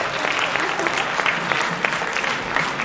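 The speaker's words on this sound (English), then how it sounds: "Ladies and gentlemen, once again, a round of applause for Sir Jonathan Yabo." An audience at a leaders' conference claps steadily and densely throughout, a sustained round of applause from a full room with no voices standing out.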